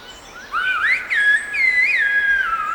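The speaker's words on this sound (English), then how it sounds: "A voice of its own, loud and musical," Silbo Gomero, the whistled language of La Gomera in the Canary Islands, comes as a loud, clear human whistle that glides up and down in pitch in a few phrases over a quiet background.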